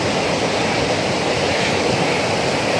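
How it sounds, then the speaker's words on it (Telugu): Water from a canal rushes down through pipes at a small generating site, a loud, steady broadband roar like surf or a waterfall, continuous and close, with no voices. "ఇదిగోండి ఇక్కడి నుంచి కిందకు ఈ వాటర్ వచ్చేస్తుందండి"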